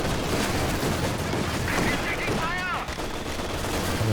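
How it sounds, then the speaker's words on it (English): An anti-tank gun fires amid a Company of Heroes 2 3v3 battle, with dense, continuous gunfire and explosive bursts crackling steadily through the whole stretch, loud and busy without pause. "Anti-tank gun coming in"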